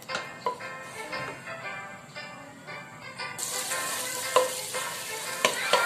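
Margarine sizzles and fries steadily in a hot wok-style pan for a sausage teriyaki dish, a continuous close crackling hiss with occasional stirring scrapes that grows louder and brighter partway through.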